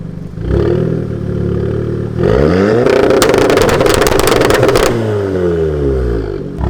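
A tuned Mk7.5 Golf R engine revs up loud and close, then breaks into a dense burst of rapid exhaust pops and crackles as it shoots flames, before the revs fall away.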